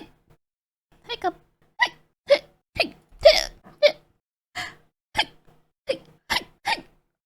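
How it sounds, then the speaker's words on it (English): Roughly a dozen short hiccups from a woman come one after another at uneven intervals, close and clear with quiet gaps between them, and no talking. "It's a lot of hiccups."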